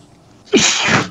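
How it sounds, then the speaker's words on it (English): A single sharp sneeze bursts out close and loud after a brief quiet intake of breath. "Hold on, I'm gonna sneeze."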